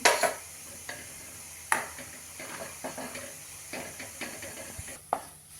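A spoon stirs full-cream buffalo milk thickened with milk powder in a pot, giving soft scraping swishes with a few sharper clinks and a faint simmering hiss between strokes.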